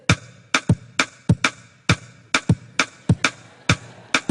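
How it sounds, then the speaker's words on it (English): Two interlocking streams of sharp percussive clicks, one pattern of three hits set against four, repeating in a steady cycle, close and crisp. "I can take a rhythm and play 3 beats at one time in a period of time"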